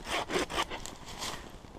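A big saw blade cuts through wood in rough, rhythmic back-and-forth strokes, close and fairly loud at first, then lighter and more ragged, with no voices.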